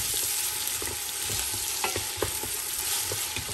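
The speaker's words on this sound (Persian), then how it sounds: "دو دانه پیاز کلان کلان خورد خورد دوتا کردیم در بین دیگ اضافه میکنم و زیر دیگ هم درجه بلند مانده" Coarsely chopped onions frying in oil in a pot over high heat, a dense continuous sizzle with occasional stirring scrapes and knocks close by, no talking.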